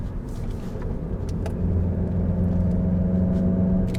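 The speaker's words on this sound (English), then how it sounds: "If you think you're hearing any engine noise, you're not. You're hearing the sound actor." Engine note of a VW MK7 GTI piped into the cabin by its sound actuator while driving, a steady low drone that builds slightly louder partway through and holds, with no talking.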